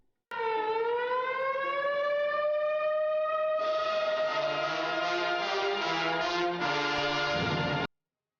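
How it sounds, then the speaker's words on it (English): A loud siren winds up into a sustained wail, joined partway through by a second droning tone, then cuts off abruptly. "Sirens are getting loud."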